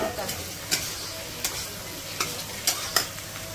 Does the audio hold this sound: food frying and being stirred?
yes